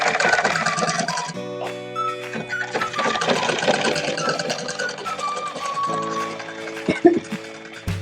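A sewing machine runs a steady, close stitching burst along a pajama seam, with a continuous whirring, buzzing hum that holds for most of the stretch. A few louder clicks come near the end.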